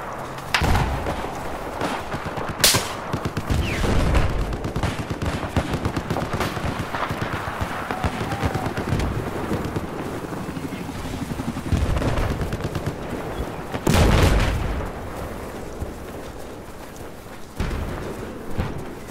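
Gunfire in the video game Battlefield 4, with continuous bursts of automatic rifle fire and several heavier booming shots echoing through a battle, loud and sustained.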